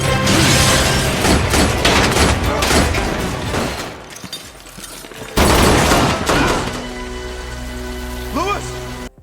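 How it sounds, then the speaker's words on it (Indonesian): Gunfire in a film shootout between police and gang members: loud, dense rattling bursts of shots with echoing reports, a brief lull, then another sharp volley under a tense score, with speech mixed in. "Terjadi baku tembak antara Alex dan Jack dengan anak buah Fallon."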